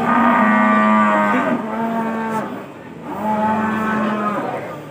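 A black Pegon cow moos three times in long, loud, close calls, each a sustained tonal low, separated by short pauses.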